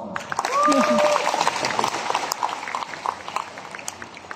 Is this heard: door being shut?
no